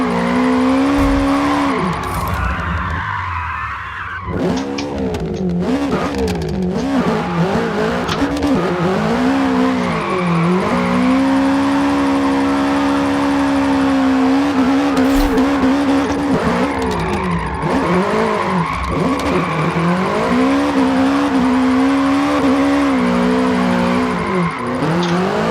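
Toyota GR86 drifting on a mountain touge road in a racing video game, a loud, steady engine note rising and falling with revs as the tyres squeal through long slides, continuous for the whole stretch.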